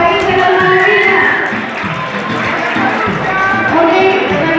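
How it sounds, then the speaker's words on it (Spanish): A school theme-day audience cheers and shouts for a costumed entrant dressed as Alice in Wonderland, a loud, dense crowd roar that swells and dips over several seconds. "Un aplauso para Alicia en el país de las maravillas."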